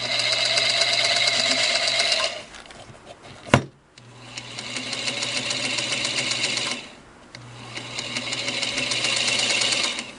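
A Singer 221 Featherweight sewing machine runs with its hook loose and rattling because the needle bar and needle plate are removed, giving a steady noisy whir in two long stretches broken by a sharp clack and a short pause.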